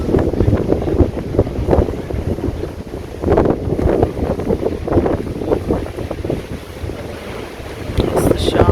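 The engine of the paddle steamer Waverley churns on a night cruise on the Thames near Tower Bridge. A steady, rhythmic low mechanical pounding rolls on beneath strong wind buffeting the microphone.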